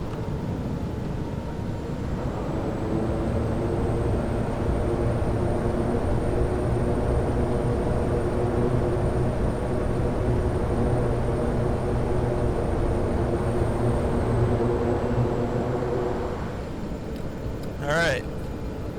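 Reverse thrust on a PA-46 in a flight simulator game after landing: a broad, steady engine roar swells up, holds loud and even for many seconds, then fades out near the end.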